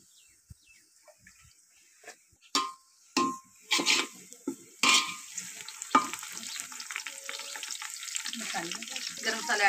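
Whole spices frying in oil in a pan for chicken pulao, with a spoon stirring and scraping in several distinct strokes early on, then a steady close sizzle building through the rest.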